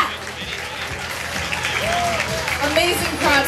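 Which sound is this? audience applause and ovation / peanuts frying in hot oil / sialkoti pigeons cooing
audience applause and ovation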